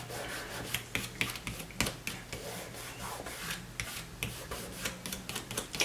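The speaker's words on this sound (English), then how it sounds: "take my fingers and just rub along the edges to help that ATG tape kind of ball up" Fingertips rubbing along the edges of paper to ball up ATG adhesive tape on a handmade mini album, a close, steady run of dry rasping strokes with soft scraping bursts and no talk.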